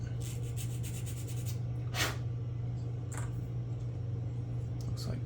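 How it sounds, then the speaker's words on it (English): A small plastic hull of a 1/72 scale Panzer 38(t) model tank is sanded in short, close scratchy rubs over a steady low electrical hum. "we need to do a little bit of sanding on that"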